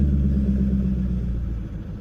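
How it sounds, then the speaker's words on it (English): A 2000 BMW E39 540i with the M62 4.4L V8 holds a steady, close low rumble at idle, easing slightly quieter toward the end with no voices. "Come down to a nice idle."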